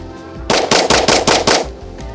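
A Shadow Systems XR920P pistol fires six rapid shots in a quick, evenly spaced string, each one loud and sharp and close by.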